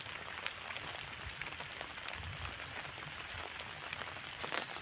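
Steady rainfall patters on a surface outside at a deep-forest campsite, a dense even hiss with scattered drops, continuous and moderately loud, no one speaking.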